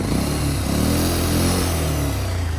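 A modified KTM Duke 390 motorcycle engine runs close by, a loud, steady throbbing idle with a low, even pulse and slight rises in intensity, heard on its own with no talk.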